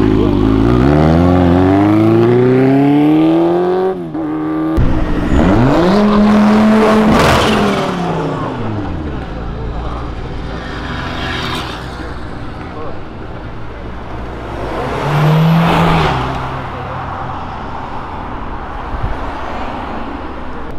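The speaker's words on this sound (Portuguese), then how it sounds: "Esse carro tá forte." A tuned 600-horsepower car engine revs hard in repeated loud bursts, its pitch sweeping up and dropping back between throttle blips, with people talking over it.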